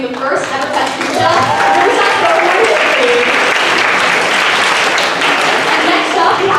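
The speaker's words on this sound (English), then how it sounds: "So round of applause to Elia for being the first ever Pet Pucha." A school spoken-word event audience gives a round of applause for a student performer, loud, dense clapping sustained throughout, close and steady.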